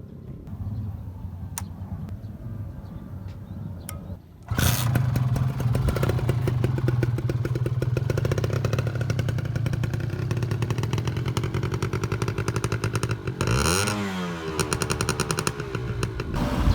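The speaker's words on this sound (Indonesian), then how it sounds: "Tadi kan udah denger suara knalpotnya, enak banget ya kan." A restored Kawasaki Ninja RR two-stroke motorcycle starts and idles with a loud, crackling, rapid-fire exhaust rattle close by, then revs up and down sharply before settling back to a busy idle.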